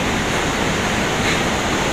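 The Bahbolon River flowing through the town of Pematang Siantar, a constant broad rush of moving water, steady and fairly loud with no voices over it.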